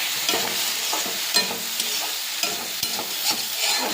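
Fish and eggplant chorchori sizzling in mustard oil as it is stirred, a steady close frying hiss broken by repeated scraping strokes of a spatula against the pan.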